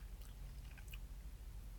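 Close, quiet crunching as someone bites and chews the crunchy breading of a Popeyes spicy chicken sandwich, a steady run of soft mouth sounds with no talking.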